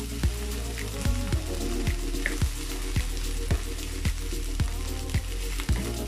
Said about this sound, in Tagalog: Prito na natin.